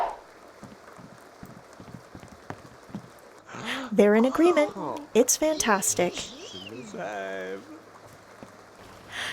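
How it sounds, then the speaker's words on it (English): Rain from The Sims 2 falls as a soft, steady hiss, first on its own and then under Sims chattering in their made-up game speech. "now that it's started raining"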